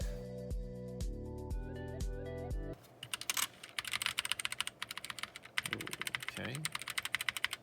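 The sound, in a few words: typing on GK61 mechanical keyboard with optical switches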